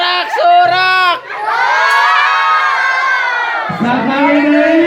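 A crowd of children cheering and shouting together at a school rehearsal event, loud sustained whoops and cries rising and falling in long drawn-out calls, close and filling the space.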